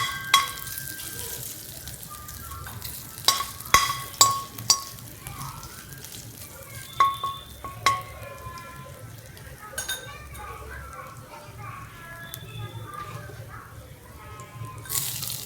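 Finely chopped ginger and black pepper fry in oil for Hakka noodles, giving a soft sizzle with sharp clinks and scrapes of a utensil against the pan, several louder knocks early on, and some faint talk.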